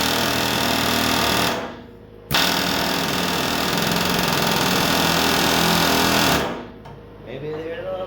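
Power tool grinding through badly rusted upper shock bolts on a 1988 Chevrolet C1500 pickup, a loud continuous buzzing whine that runs, cuts out briefly near two seconds, resumes strongly, then drops away near the end.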